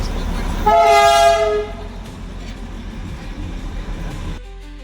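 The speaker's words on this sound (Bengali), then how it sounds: "তারপর আওয়াজ পেলাম টয় ট্রেন" The Darjeeling toy train's horn blares loudly for about a second, then rail rumble and clatter carry on steadily before fading.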